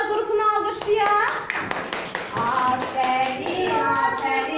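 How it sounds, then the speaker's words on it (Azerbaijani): Children in a kindergarten literacy class clap together in a brief burst of applause, close and lively, while an adult teacher talks over and around it. "Uşaqlar, marallar qrupunu alqışlayaq."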